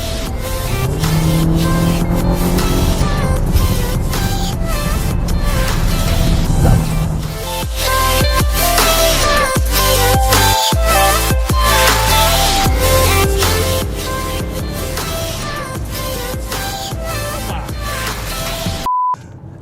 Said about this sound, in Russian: 5-литровый дизель